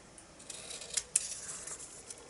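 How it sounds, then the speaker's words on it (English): Scissors trim off excess paper during a craft project, giving a few faint, quick snips close by in a quiet room. "I'm just going to cut off any excess here"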